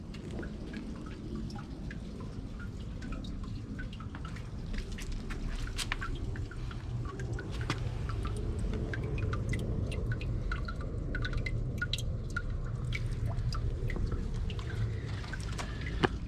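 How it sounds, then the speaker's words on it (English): A 2020 Kohler Wellworth Class 5 dual-flush toilet flushing with all-original tank parts: a steady rush of water over a low roar, with splashing and trickling drips through the whole flush and no talk. "Here is my Kohler Wellworth Class 5 dual flush flushing."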